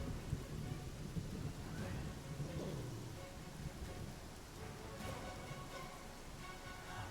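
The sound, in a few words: rain and thunder in Pathfinder Kingmaker video game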